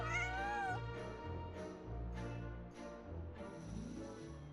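A cat in a Genshin Impact cutscene gives a drawn-out, wavering meow at the start, then softer meows come through over a low musical bed.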